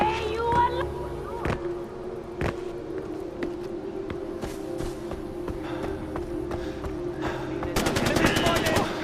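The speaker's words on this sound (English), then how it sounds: "Gunfire!" Gunfire in Far Cry 4 during an outpost fight: scattered single shots crack through the first several seconds, then a rapid, loud automatic burst erupts near the end over a steady background drone.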